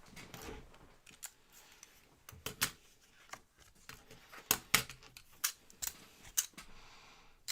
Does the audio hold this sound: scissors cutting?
yes